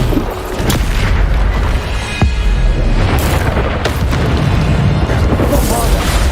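A Bombarda explosion spell goes off in Hogwarts Legacy as a loud booming blast, followed by continuous rumbling combat noise and further bursts, with a voice speaking over it.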